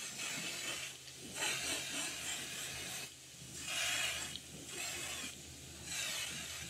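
Light sandpaper rubbing over a crankbait fishing lure before a white base coat, a soft raspy scrubbing in repeated strokes of about a second each, close and fairly quiet with a steady low hum beneath.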